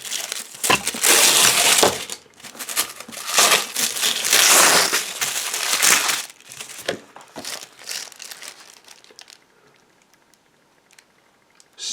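Cardboard and plastic packaging on a Doomsong RPG box is cut and torn open, with loud, close crinkling and ripping bursts that gradually thin out into near silence.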